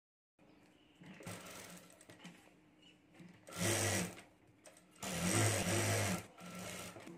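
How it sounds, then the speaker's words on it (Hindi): A sewing machine stitching fabric for a small mini backpack keychain, running in short bursts with quieter pauses between, two longer loud runs near the end, close and without voices. "तो यहाँ भी मैं सिलाता हूँ।"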